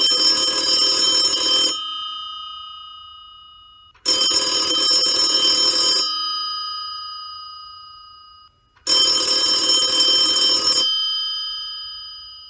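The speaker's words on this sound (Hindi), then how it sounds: "सागर का मॉस्को से फोन आ गया।" A telephone rings electronically in three long bursts separated by silent pauses, loud and close, with no voices; an international call from Moscow.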